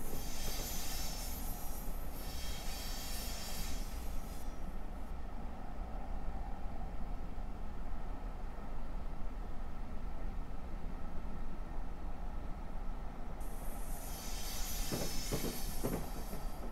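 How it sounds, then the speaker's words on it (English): Train in Train Simulator 2016 running at speed with handbrakes applied into the Bergen tunnels on the Hoboken line, a steady loud rumble of wheels and rail noise with hiss that dulls as it enters the tunnel, no talk. "the train obviously has sufficient power to overcome the effect of the handbrakes as we go into the Bergen tunnels"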